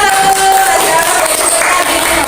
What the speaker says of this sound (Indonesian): Berikan tepuk tangan untuk kelompok 1